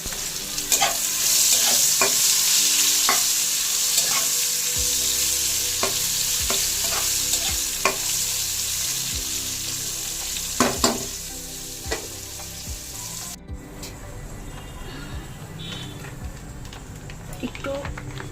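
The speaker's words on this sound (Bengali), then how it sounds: "এবার একটু নেড়ে চেড়ে" Vegetables for Bengali shukto, dusted with turmeric, are stirred and fried in a pan, a steady sizzle broken by repeated spoon scrapes and knocks, close and fairly loud, with occasional background voices.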